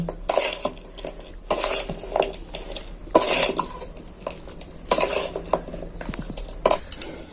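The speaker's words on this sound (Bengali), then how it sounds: "এইভাবে কিন্তু আমি একদম নেড়েই যাব নেড়েই যাব" Jaggery sticks are stirred in a pan with a metal utensil: repeated close clinks and scrapes against the pan come in irregular bursts, with soft rustling between strokes.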